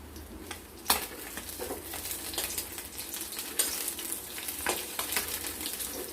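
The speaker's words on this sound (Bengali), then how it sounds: "মাছ ভাজা হতে হতে আমরা কিছুটা মশলা রেডি করে নেব" Small puti fish frying in hot oil in a kadai give a dense, continuous crackling sizzle, close and fairly loud, broken by occasional spatula scrapes and pan knocks, with no voices.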